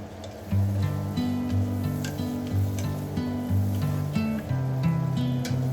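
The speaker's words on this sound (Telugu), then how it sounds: "ఆయిల్ బాగా కాగిన తర్వాత అందులో పచ్చిమిర్చి కరివేపాకు ఆనియన్స్ వేసుకొని మంచి గోల్డెన్ కలర్లో వచ్చినంత వరకు ఫ్రై చేసుకోవాలి" Green chilies, curry leaves and onions fry in oil in a pan, a close, steady sizzle with crackling bursts, partly under a low tonal background.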